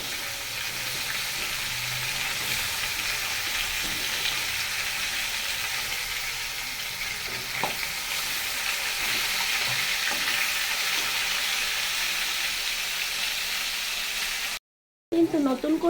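Two kilos of cut bhetki fish fry in a pan with a steady, dense sizzle that carries on evenly, with a faint stir or clink now and then and a brief cut near the end.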